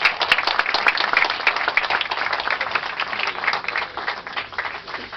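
A crowd claps at a religious procession for Nuestra Señora de la Reconciliación in La Molina, with lively, fairly close applause starting strong and continuing steadily for several seconds without speech.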